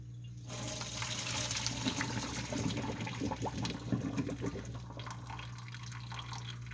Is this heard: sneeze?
no